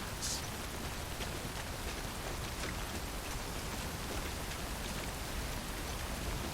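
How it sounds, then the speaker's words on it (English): Timefall rain in the video game Death Stranding falls as a dense, even hiss of steady rainfall on surfaces. It sounds near, holds constant throughout, and has no talk over it. "the timefall's destroying all our stuff"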